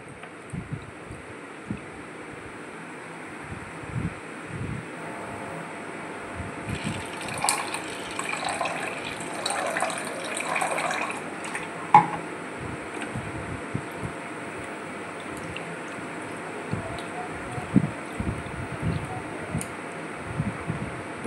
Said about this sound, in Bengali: বেশ কিছুটা জল দিয়ে আমি ডালটা আগে ভালো করে পরিষ্কার করে ধুয়ে নিব।